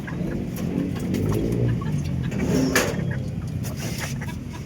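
Chickens in a chicken coop cluck softly amid a low, steady background rumble, with occasional brief louder calls rising over the murmur.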